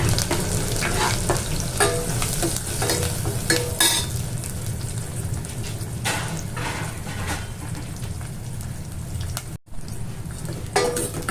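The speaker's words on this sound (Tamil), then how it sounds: "வெங்காயம் போட்டாச்சு. வெங்காயத்தை நல்லா வதக்குவோம்." Onions sautéing in hot oil with mustard seeds and green chilies for sambar, a steady close sizzle with a broad frying hiss throughout, broken by frequent scraping stirs of a spoon against the pan and a brief dropout near the end.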